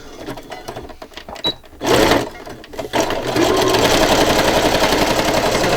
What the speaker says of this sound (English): I am stitching along the folded line first